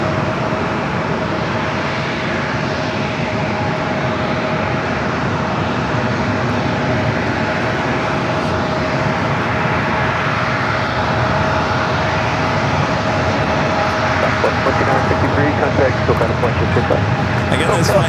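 A Boeing 737-700 jet airliner bound for Sacramento at San Diego airport produces a loud, steady engine roar throughout, with voices talking over it.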